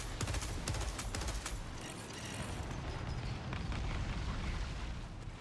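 Grenade blasts in a first-person shooter game, a dense rumbling barrage of booms and crackling debris that rolls on continuously at high volume with no voices.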